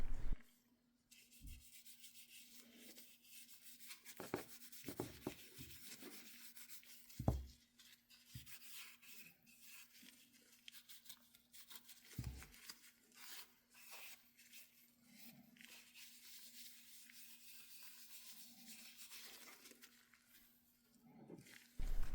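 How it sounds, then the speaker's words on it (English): A scrap of cloth rubbing a beeswax and natural-oil leather conditioner into a leather hair barrette, soft repeated scrubbing strokes with occasional sharper scuffs, close and quiet, with a faint steady hum underneath. "I apply a generous layer to my design with a scrap piece of cloth"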